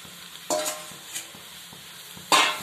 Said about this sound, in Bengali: দিয়ে ভালো করে আবার উপর নিচ করে নাড়বো আলুর সাথে মিশিয়ে দেব